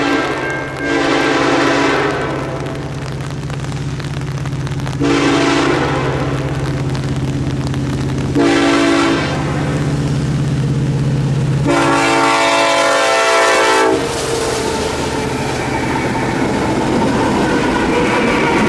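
Norfolk Southern NS 1067, a freight train near Dover on coastal Carolina tracks, sounds its horn in several long, loud blasts over a steady rumbling engine and rolling cars, fairly close.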